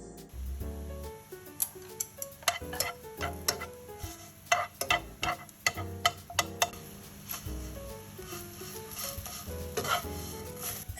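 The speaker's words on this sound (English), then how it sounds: "Now, you can use chopsticks or a tongue to stir it around. See, this is how I do it." Chow mein noodles stir-fried with chopsticks in a wok with soy sauce, with repeated sharp clicks and taps of chopsticks against the wok over a continuous light sizzle, irregular in rhythm and close by.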